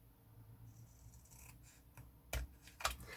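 Scissors trim the bottom edge of a punched paper luggage tag, giving two crisp snips close by against a quiet background.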